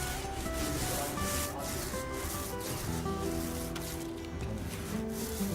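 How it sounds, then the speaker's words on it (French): A 100 mm brush working diluted lime paint in irregular strokes over a wall, giving a steady, close, continuous scrubbing rub that runs throughout with no pauses. "travaillez-le avec la brosse de 100 mm les chaux d'antan, de manière très irrégulière pour créer un effet brossé"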